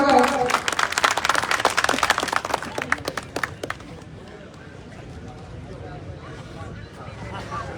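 An outdoor crowd at a live Haryanvi ragni political event claps loudly and raggedly for a welcomed guest, the applause fading out after about four seconds to low background noise and murmur.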